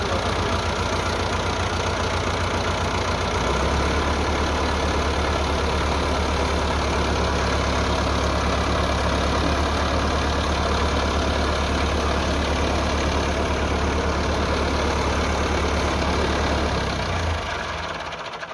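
A Massey Ferguson 385 tractor, parked with the hand brake on and a broken wheel bearing, idles close by with a steady, loud mechanical drone and slight knock, then cuts off near the end.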